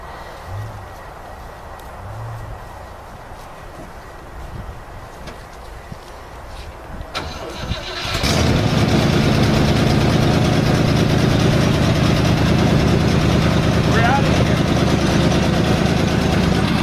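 A heavy machine's diesel engine cranks and catches about eight seconds in, then settles into a loud, steady, close idle rumble. Faint outdoor background sound comes before the start.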